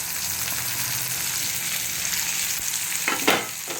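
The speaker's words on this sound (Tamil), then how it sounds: "கொஞ்சம் வெங்காயம் வதங்கிடுச்சு. இப்போ இந்த முள்ளங்கி எல்லாம் சேர்த்துறேன்." Radish being added to onions, coriander and curry leaves sautéing in a pan for karamani kuzhambu, a steady close sizzle with a brief stirring clatter near the end.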